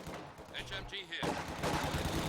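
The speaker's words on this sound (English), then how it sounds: "HMG here." Heavy machine gun fire in a Company of Heroes match, bursts of rapid shots mixed with other battle noise and explosions, with a voice speaking over part of it.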